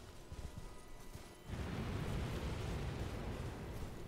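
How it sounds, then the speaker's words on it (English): A madness-inducing explosion in the video game Elden Ring erupts midway as a sudden broad, roaring burst that swells and then sustains as a dense, rumbling wash. It plays at low volume with no talk. "So, that explosion is going to start to build up madness in me."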